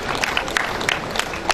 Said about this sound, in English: Put your hands together for her.